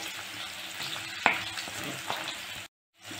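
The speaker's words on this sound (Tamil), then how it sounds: "நல்லா வெங்காயம் இந்த மாதிரி சவக்கணுங்க பாருங்கள்." Onions sautéing in a pan for a home-cooked Tamil vegetable dish, a steady close sizzle and fry with a sharp utensil scrape near the middle, then a brief cut to silence before the frying returns.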